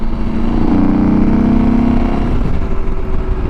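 A KTM 790 Adventure R motorcycle with a non-stock exhaust accelerates hard, its loud, close engine note climbing in a strong pull before easing off toward a lower rumble.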